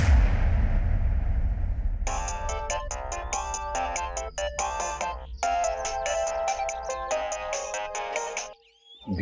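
A mobile phone ringtone plays a bright, repeating electronic melody in bursts, preceded by a low rumbling noise and cutting off abruptly near the end, in a TV crime drama scene.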